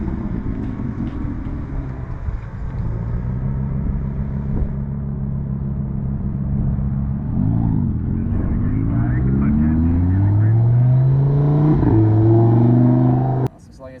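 A V6 sports car engine on a race track, heard from inside the cabin, accelerating through rising revs with gear changes, loud and close before cutting off abruptly at the end.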